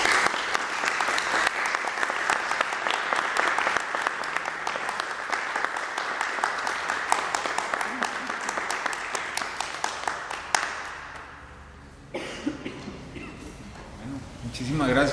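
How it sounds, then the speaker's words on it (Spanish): An audience at a book presentation claps warmly and continuously for a long stretch, then the applause tapers off and a single voice begins speaking. "Un aplauso para el maestro."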